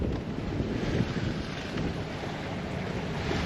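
Steady wind at sea rushing across the microphone in open air, a continuous low roar with faint wash of water beneath, no voices.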